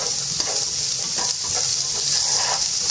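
Carrots and other ingredients for straw mushroom porridge stir-frying in a pan, a steady close hiss of sizzling oil with intermittent soft scrapes and clicks of stirring, no voices.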